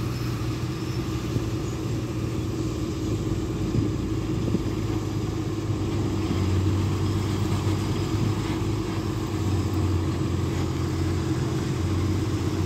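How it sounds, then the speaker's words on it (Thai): A SANY SY215C excavator sits running, its engine and hydraulic pump giving a steady, close, continuous low drone with a faint mechanical whine and no change in pace. "เรามาชมเสียงเครื่องเสียงปั๊มกันครับสำหรับ SY 2154"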